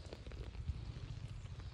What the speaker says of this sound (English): Sorry, there's a bit of rain on this.